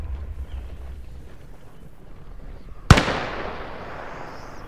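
A single sharp artillery shell blast from the Call to Arms: Gates of Hell battlefield hits loud and close about midway, trailing a long rumbling, hissing decay over low battlefield ambience.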